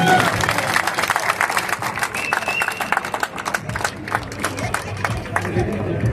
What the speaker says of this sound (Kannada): ಜೋರ ಚಪ್ಪಾಳೆ ಬನ್ನಿ